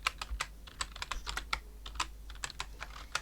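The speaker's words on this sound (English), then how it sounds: "Worst typing ever." Fast, irregular keystrokes on a computer keyboard while coding in Laravel, close and crisp clicks in uneven bursts over a low steady hum, with no talking.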